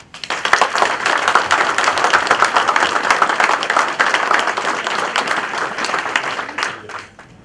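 Loud applause from the audience at the opening of a medical centre, a dense burst of clapping that swells quickly, holds for several seconds, then fades out.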